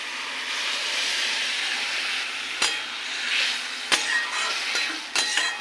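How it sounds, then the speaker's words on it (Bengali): Hot water goes into a pan of potatoes and banana flower cooking on the stove, giving a steady broadband hiss and sizzle with a few sharp clinks partway through. "দিয়ে দেবো গরম জল।"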